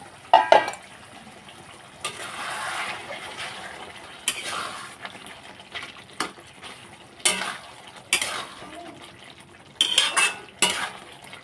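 Spice masala with potato and tomato being stirred in a pan for Bengali bhagna fish curry, giving a run of scraping spoon strokes and clinks against the pot, with a faint sizzle between bursts.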